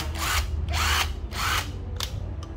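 Hitachi cordless screwdriver drill triggered in four short bursts, a whirring motor rising and dropping with brief pauses between, close and loud with no talking.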